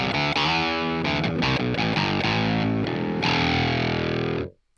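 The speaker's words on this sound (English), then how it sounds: "With the envelope filter here, you can change the sound." Heavily distorted electric guitar runs through a PolyChrome DSP envelope filter, loud sustained chords with quick rhythmic strums and a long final ringing chord that cuts off sharply, with no voices.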